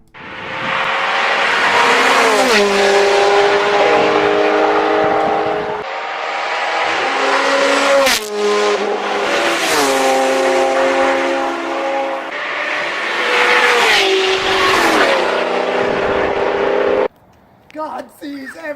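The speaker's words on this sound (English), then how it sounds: "And as Daisy and Gatsby drove home," A car driven fast by Daisy and Gatsby heading home, with a loud, continuous engine roar and long squealing tire tones lasting most of the stretch before it cuts off abruptly.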